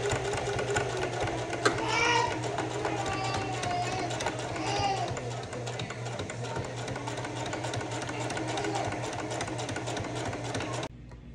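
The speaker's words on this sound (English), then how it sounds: "I just finished sewing my patches on for both sides" A sewing machine stitches patches onto a khaki cross-body bag, running in one steady, continuous whir close by for about eleven seconds before stopping, with some voices faintly beneath it.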